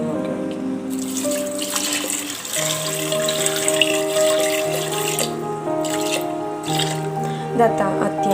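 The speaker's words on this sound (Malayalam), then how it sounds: "ഈ വെള്ളം ഇതിനകത്തോട്ട് വെള്ളം ഒഴിച്ചു കൊടുക്കുന്നതിലേക്ക്" Tap water runs steadily into a pot of rice being readied for cooking Kerala pachoru, a continuous close splashing flow with changing pitch as the pot fills, under a faint background hum.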